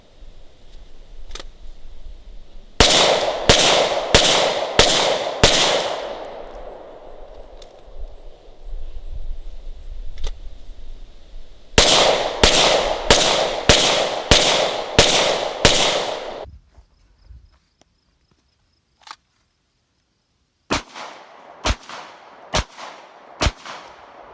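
A Glock 17 Gen 5 pistol fires in rapid strings of five or six sharp, loud shots each, with ringing decay between bursts, a short pause, then a final quick string of four shots.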